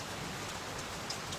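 Rain falls on garden plants in a steady, even hiss of drops with a few louder splashes, no voices heard.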